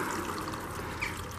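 Water is poured steadily into a pipe set in the ground, making a continuous gurgling trickle that is close and moderately loud, with no voices.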